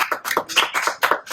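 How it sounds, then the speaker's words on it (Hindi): Rapid hand clapping from several people, a steady run of sharp claps close by with no talking. "तो आइए हम ईश्वर की महिमा करें ताली बजाकर।"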